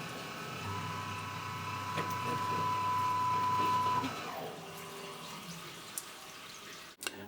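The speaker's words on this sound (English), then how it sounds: "I am going to put the flood coolant on" Flood coolant pouring over a workpiece on a metal-cutting machine tool, a steady splashing wash under a faint machine hum for several seconds that then fades to near quiet.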